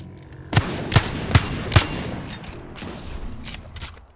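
Gunfire from a modded Wingman pistol in Apex Legends, four sharp evenly spaced shots followed by a few softer, quicker bursts, close and punchy over a continuous game background.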